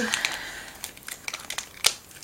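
Sealed plastic product bags being opened: crinkly plastic rustles and crackles in short bursts close by, with a brief sharp crackle near the end.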